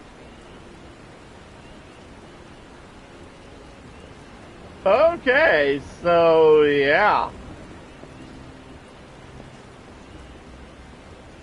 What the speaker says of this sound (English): And it's pouring down rain here.